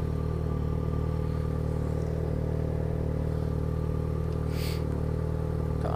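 A steady engine drone and road rumble from a moving Yamaha XJ6 motorcycle, with wind noise and a brief rush partway through; no talking.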